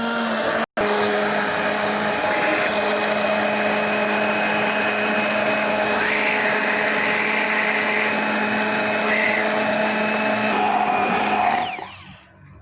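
A blender runs without pause, whirring loudly as it mixes shawarma sauce with oil. The motor drops out for a moment near the start, then drones on steadily before spinning down at the end.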